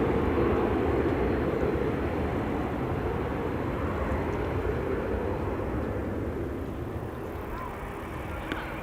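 A German Airways Embraer 190 jet departs Amsterdam Schiphol for Aalborg, its engines giving a steady, fairly loud rumbling roar that eases slightly toward the end.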